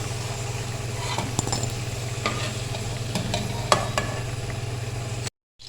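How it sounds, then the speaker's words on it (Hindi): Eggs frying in hot oil left over from frying potatoes, a steady close sizzle with occasional sharp pops and crackles over a low constant hum. "अब इसी ऑयल में हम अंडों को भी फ्राई कर लेंगे, गोल्डन सा कलर कर लेंगे इसका।"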